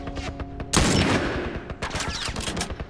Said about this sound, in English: I'm gonna shoot the driver.